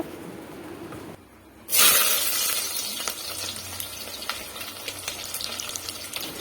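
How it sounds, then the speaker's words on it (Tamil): Small onions drop into hot oil with fenugreek seeds, starting a sudden loud hiss after a brief quiet moment, then a steady close sizzle with scattered crackles and pops. "இப்போ சின்ன வெங்காயத்தை சேர்த்துருங்க"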